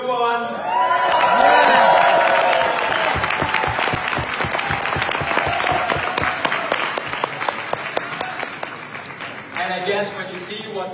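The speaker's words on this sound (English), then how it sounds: "Give me some applause for the new one." Audience applause with cheering and whoops at a stage event in Paris, loud crowd shouts at first, then sustained dense clapping that carries on steadily.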